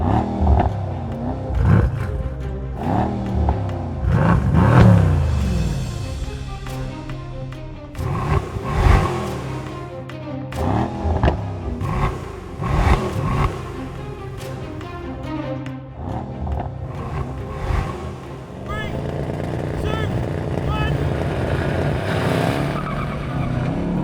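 Powerful 4-litre V8 engines of a Mercedes-AMG E63 S and C63 S roar and rev hard as the cars accelerate in a drag race, with repeated rising gear-change sweeps and surges, loud and close, no talking.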